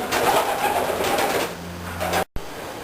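Racing pigeons in a South Australian loft coo softly and continuously through a steady stream of low, murmuring calls, with no talking, then cut off in a brief dropout near the end.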